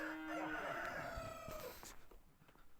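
A rooster crows once, a loud, clear drawn-out call close by that fades into quiet farmyard background.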